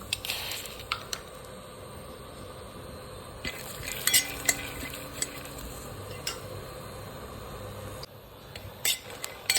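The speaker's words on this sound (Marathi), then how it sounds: "आता आपण शेंगदाणे भाजून घेऊया" Peanuts dry-roasting in a pan give a faint, soft rustle with scattered light clicks and scrapes as they are stirred, quiet and close, with no talk.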